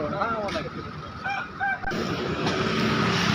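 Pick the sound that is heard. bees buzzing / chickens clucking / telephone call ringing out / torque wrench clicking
chickens clucking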